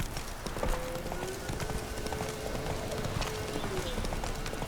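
Hooves of the horse Roach gallop in The Witcher 3 video game, a quick repeated clip-clop of footfalls over a steady background of game sound, heard close with no talk.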